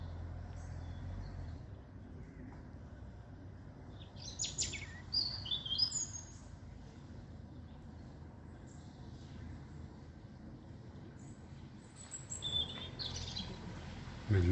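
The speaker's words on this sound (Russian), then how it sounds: "Птичка мелкая сидит и поет" A small songbird chirps in spring outdoors, with faint short bursts of tweets rising now and then over a low, steady hum of distant traffic.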